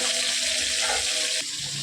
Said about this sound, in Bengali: কড়াইতে মাছগুলো একটু ভেজে নিচ্ছি।